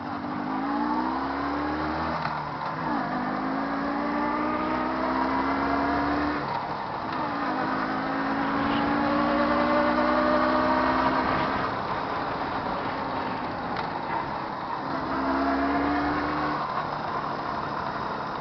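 A Jawa 638 motorcycle engine runs steadily close by, with engine note rising and falling in repeated revs over a constant mechanical hum, heard outdoors over grass with no talking.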